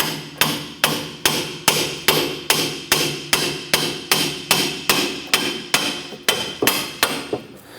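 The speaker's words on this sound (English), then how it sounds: "We're going to use our hammer to go ahead and work our Clevis fork off of our strut." Repeated hammer blows knock the clevis fork off the front strut of a 2008-2012 Honda Accord, about fifteen sharp metallic strikes in an even, steady rhythm, loud and close with no talking.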